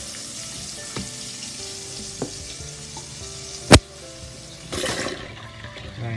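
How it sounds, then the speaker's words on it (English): Chicken frying in a pot, cooked as French fried chicken alongside Spanish rice, gives a steady hiss and sizzle with scattered clinks, one sharp snap midway and a louder rushing burst near the end, with no talk. "Over here I have the chicken frying"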